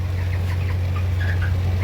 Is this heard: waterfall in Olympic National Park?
no